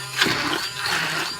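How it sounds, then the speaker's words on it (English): A stick immersion blender grinding roasted salsa, a steady whirring motor hum with a wet churning texture, close and fairly loud for its short length, with no talking. "Turn it on, you're gonna grind it all up."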